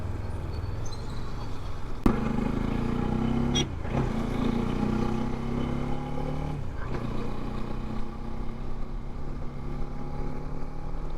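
Several KTM motorcycles idle and rev steadily up close as a group ride gets under way, a continuous engine drone with a few sharp throttle blips.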